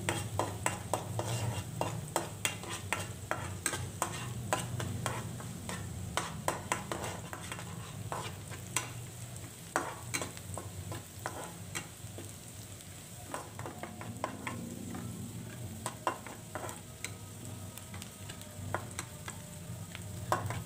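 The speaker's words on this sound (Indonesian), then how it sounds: "Ditumis dulu semuanya sampai benar-benar matang dan wangi." Shallots, garlic, leek and chili sautéed in oil for fried instant noodles, a steady close sizzle broken by frequent scraping stir strokes and light utensil clicks against the pan, with no speech.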